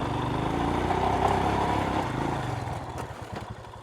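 A Royal Enfield Himalayan 411 motorcycle climbs an off-road hill, its engine droning steadily and loud up close, then bogging into uneven chugging and clatter as it loses momentum toward the end.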